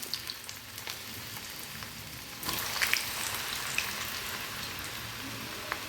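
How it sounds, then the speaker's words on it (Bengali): Sliced potatoes for french fries hiss in hot oil, a soft crackle that swells sharply as a fresh batch goes in, then holds as a bright, bubbling sizzle with scattered pops, close by, with no voices. "নেক্সট ব্যাচটাও আমি এভাবেই ভেজে নেব, খুব আস্তে করে ছাড়বে, কারণ তেল গরম রাখতেই হবে আমাদের।"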